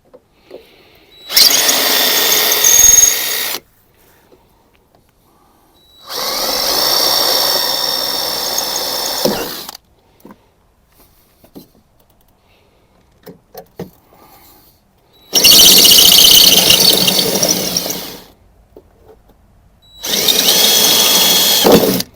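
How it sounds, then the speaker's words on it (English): A power drill bores rivets out of a Mitsubishi Pajero/Montero Limited plastic bumper in four loud, whining bursts of a few seconds each, with near silence and faint handling noises between them; no voices. "I'm going to drill these rivets out real quick"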